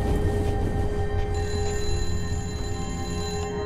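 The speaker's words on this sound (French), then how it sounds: "Quoi de putain de téléphone là?" A telephone rings with steady, sustained electronic tones in the Sniper Elite V2 Remastered video game, Tiergarten Flak Tower mission, heard clearly over a low rumbling game ambience with no talking.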